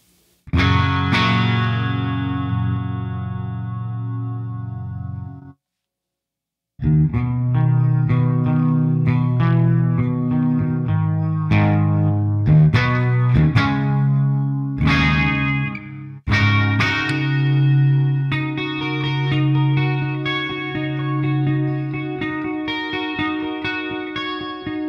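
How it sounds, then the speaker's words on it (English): Electric guitar played through a Crate GFX 1200H amplifier head with chorus and reverb on, loud sustained chords and melodic runs with a shimmering, echoing tail, briefly stopping before resuming, no talking. "That would be the chorus and reverb together."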